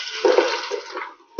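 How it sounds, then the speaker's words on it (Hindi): Carrots dropped into hot ghee in a pan for carrot halwa, giving a steady close hissing sizzle with a brief louder burst at the start and another near the end, no voices. "घी हमारा गर्म हो चुका है, हम इसमें गाजरें शामिल करते हैं।"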